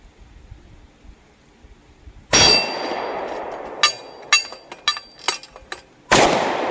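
Rifle shots from a Buffalo Cartridge BRG9 Elite striking steel targets: a loud blast with a ringing metallic clang, a scattered run of sharper pings and clangs, then another loud shot near the end.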